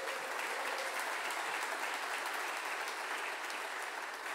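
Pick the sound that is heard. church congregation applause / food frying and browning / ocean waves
church congregation applause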